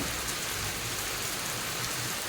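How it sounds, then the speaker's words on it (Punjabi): Heavy rain pours steadily in a dense, unbroken hiss, close and loud throughout. "ਮੀਂਹ ਦੇਖੋ ਅੱਜ ਕਿੰਨਾ ਪੈ ਰਿਹਾ"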